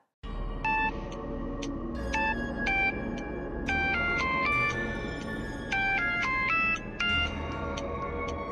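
During an outgoing call, a phone ringback or melodic ringtone sounds as bright, stepped electronic tones over a steady background hum. The tones repeat in short patterns for several seconds, and no one speaks.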